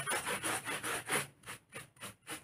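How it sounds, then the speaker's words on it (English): Up close, sandpaper is rubbed over small cobblestones on a World War II street diorama, making quiet, rhythmic back-and-forth scraping strokes in about eight quick passes, with no voices. "sand over some of the cobbles"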